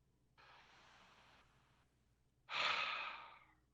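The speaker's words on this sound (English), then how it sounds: "Breathe in." Two deep breaths during guided breathing: a soft, drawn-out inhale, then a louder, breathy exhale close to the microphone, heard alone.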